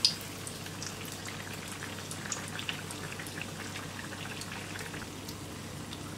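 Kandarappam appams frying in hot oil, a soft continuous bubbling sizzle with scattered light pops, fairly quiet and steady throughout, with no voices.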